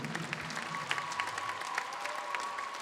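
Audience applause fills Atlas Arena in Łódź at a welcome event, a steady dense wash of clapping from a large crowd, moderately distant and even throughout with no talk over it.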